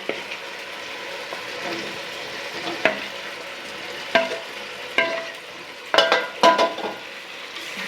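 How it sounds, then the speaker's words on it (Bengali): Fried potatoes being stirred into a spice masala in a pan, with a steady frying sizzle and several loud, close scrapes and clanks of the spoon against the pan, coming more often toward the end. "এখন আমি আলু ভাজাটা ভেজে রেখেছি সেটা দিয়ে দিচ্ছি"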